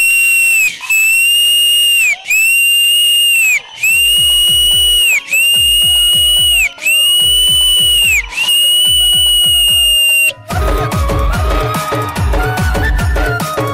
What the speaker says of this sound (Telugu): నేను మాట్లాడలేవు, విజిల్సే.